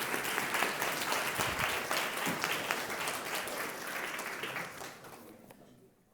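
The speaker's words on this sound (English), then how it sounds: "So please give her a round of applause as she joins the stage." Audience applause fills the room at a food access and affordability summit as U.S. Congresswoman Valerie Foushee joins the stage; dense, steady clapping from a sizable crowd that fades out near the end.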